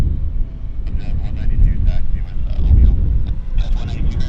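Strong wind buffets the microphone beside an airport runway, a heavy, continuous low rumble. Faint voices talk intermittently above the gusts.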